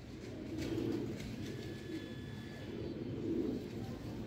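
Sialkoti rooftop pigeons cooing, with low soft coos recurring through a steady outdoor murmur, a couple of fuller calls standing out near the start and again toward the end.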